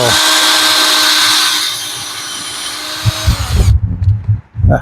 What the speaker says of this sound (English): I'm going to drill this one in here